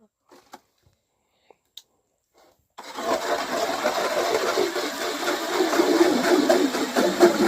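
A Strikemaster 8-inch electric ice auger starts after near silence and drills steadily through lake ice, a loud continuous whirring grind that holds to the end, with a few faint clicks before it kicks in.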